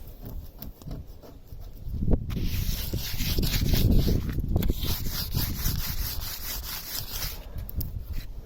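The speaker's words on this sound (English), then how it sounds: "it's just a very light sanding. Just getting all these chippy paint off" Light hand sanding scrapes loose, chipped paint off a narrowboat roof: close, rhythmic rubbing strokes that build in the middle and then continue steadily, with no talk.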